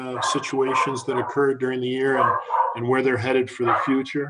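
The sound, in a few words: dog barking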